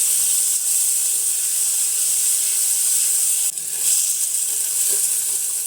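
Chopped onions hit hot oil already holding ajwain and cumin for bhindi masala, giving a loud, continuous hissing sizzle that holds steady throughout, with a brief burst of extra crackle partway through and no talking.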